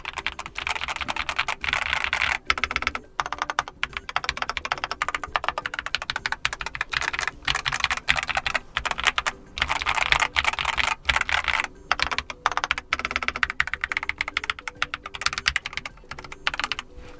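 Continuous fast typing on a Keychron K8 mechanical keyboard resting on a rubber desk mat, dense muffled clacks with a slightly damped tone, steady and close throughout with no voices.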